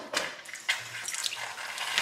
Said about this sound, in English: So it's a boiling hot water tap.